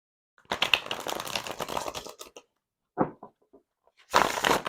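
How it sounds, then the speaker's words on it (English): A 100-card tarot deck riffled together in a long rapid flutter, then a few soft taps and a second short burst of riffling, close by with no talking. "I can shuffle all 100 cards together in a regular riffle style"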